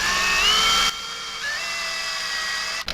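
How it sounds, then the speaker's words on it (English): A rotary tool with a ball bit drills a lead weight hole in a small wooden crankbait lure, giving a close, steady high-pitched whine that drops in pitch and then settles under load. "Gonna add a little bit more to that hole with the ball bit."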